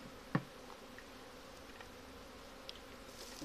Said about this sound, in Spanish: este es un enjambre mucho, mucho más grande que el otro